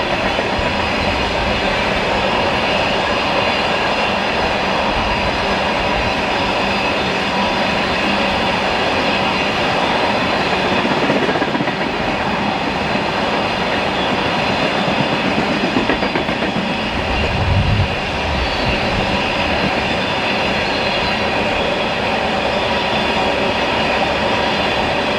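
A long freight train hauled by Canadian Pacific and Union Pacific locomotives rumbles past in the Columbia River Gorge, loud and steady, with continuous rolling wheel noise and clatter throughout.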